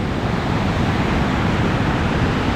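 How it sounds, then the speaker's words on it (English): Rushing water of the Nisqually River below Mount Rainier, a dense, constant roar, loud and near, with no voices. "That is the Nisqually River right there. And you see it's a gusher."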